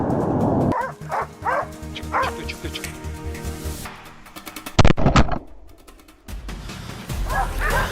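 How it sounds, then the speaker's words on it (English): Hunting dogs bark and yip in rapid, repeated bursts during a wild boar hunt, loud and close, with whimpering and a short gap before more barking. "Soon, the sharp barks of the hunting dogs echoed loudly."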